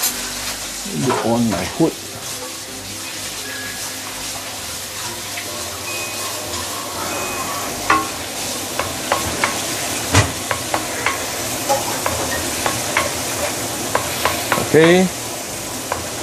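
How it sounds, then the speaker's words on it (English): Garlic sautéing in a hot pan for stir-fried okra with sambal, a steady sizzle and frying hiss with scraping stir strokes and clinks throughout, a voice speaking briefly near the start. "We can saute some garlic, yeah, garlic first."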